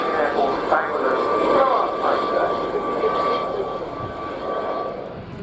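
Fixed-wing aircraft engine roar at an air show, making a level pass over the runway, a steady loud drone sustained throughout with commentators talking over it.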